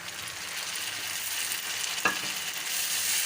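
Chopped, peeled and seeded tomatoes fry with sautéed onions for a dhaba-style okra masala, a soft, even sizzle with one brief clink of a stirring spoon.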